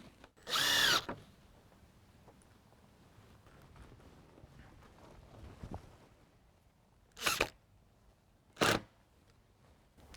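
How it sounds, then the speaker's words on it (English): A power drill drives screws into a 2x10 deck frame beam in three loud whirring bursts: a long one at the start and two short ones near the end, separated by quieter work noise. "we'll get all these screws started"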